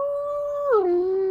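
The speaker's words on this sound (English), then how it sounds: "I got a dog that's whining." A pet dog lets out a single drawn-out, high whine that holds steady, then bends downward into a lower moaning tone, close and fairly loud with nothing else in the background.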